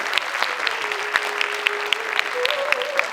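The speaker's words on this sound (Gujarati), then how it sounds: "જોરદાર તાળીઓના ગડગડાટથી આપણે આ સૌ કલાકારોને બતાવી લઈએ" An audience claps for the amateur cast of a Gujarati stage play, steady applause with sharp individual claps, and faint tones and voices underneath.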